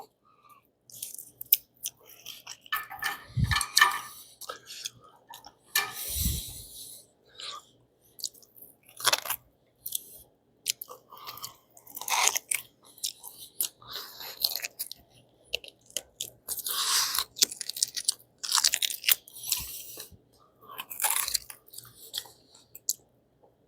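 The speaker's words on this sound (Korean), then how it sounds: "그 뼈에 붙은 살이 너무 아까워서 다 긁어 먹어요 원래." Close, crunchy chewing and biting of pork trotter meat scraped off the bone, in irregular bursts of wet crunches and smacks with brief pauses, nearly free of talk.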